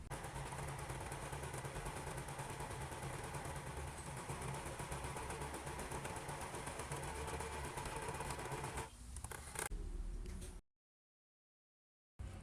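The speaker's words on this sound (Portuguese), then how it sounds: "aqui eu vou fazer uma costura reta bem aqui no cantinho" Sewing machine stitching a straight seam along the corner of a fabric bag, a fast continuous mechanical whirring close up that changes pitch near the end and then stops abruptly into silence.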